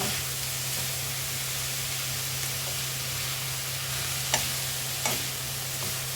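Food fries in a pan with a steady, fairly quiet sizzle and hiss. A low hum sits underneath, and a couple of soft clicks come near the end.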